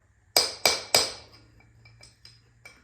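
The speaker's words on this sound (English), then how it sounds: "you will notice the pitch will change as you hit it" Metal part of a car's front end being struck during a rebuild, three sharp ringing hits in quick succession followed by several fainter, higher taps with a low background hum.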